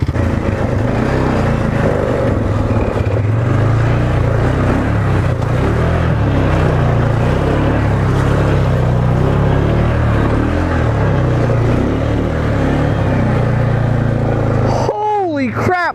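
A Polaris ATV pushes through mud, its engine droning loud and steady throughout, with a brief squeal of higher sound near the end.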